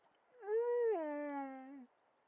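A dog in the video game Divinity: Original Sin 2 lets out one close, clear howl that rises, then bends down into a long falling whimper, alone against silence.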